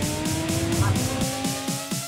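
Audi R8 V10 Plus with a 542 bhp V10 in a drag race, its engine screaming and climbing through revs in quick repeated surges, loud and close.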